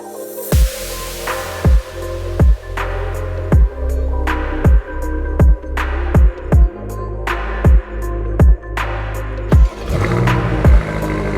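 The 617-hp 2020 BMW M8 Competition Coupe's engine is revved again and again, a loud, close run of about a dozen evenly spaced throttle blips, each rising then dropping sharply.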